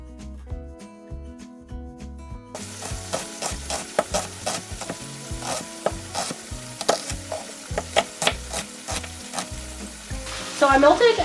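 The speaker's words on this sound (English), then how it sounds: "I'm just going to go ahead and add in the onion and squash. And we're just going to cook this in the skillet" Onion and summer squash fry in melted butter in a skillet, with a steady sizzle and repeated scraping stirs, close and fairly loud over background music.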